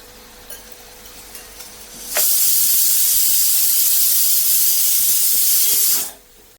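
Masala of chili powder, turmeric and coriander-cumin powder sautéing in a pan for a vegetarian thali bursts into a loud, steady hiss that holds for about four seconds and then cuts off abruptly, after a quieter start.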